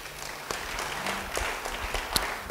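A church congregation claps and applauds continuously, a moderate wash of scattered hand claps with a few sharper claps standing out.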